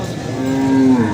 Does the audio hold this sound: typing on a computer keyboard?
no